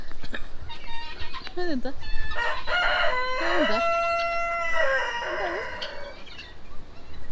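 Several roosters crow in long drawn-out calls, overlapping one another, with hens clucking and other farmyard noise in the background, at Koktobe in Almaty, Kazakhstan.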